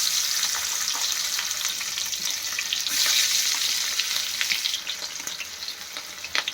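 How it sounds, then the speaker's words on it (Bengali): Spice-coated hilsa fish pieces frying in hot oil, a loud, close, hissing sizzle full of tiny pops that eases slightly and turns more spattery toward the end. "তেলটা গরম হয়ে এসছে এরপরে এতে আমি সেই মাছগুলো মশলা মাখানো মাছগুলো আস্তে আস্তে ছেড়ে দেবো"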